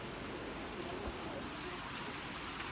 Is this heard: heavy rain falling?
yes